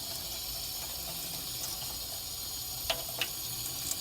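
Running water streams steadily while dyed human hair extensions are rinsed, a constant close hiss with a few soft splashes and drips near the end, no voices.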